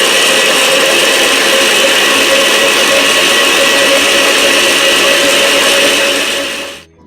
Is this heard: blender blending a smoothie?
yes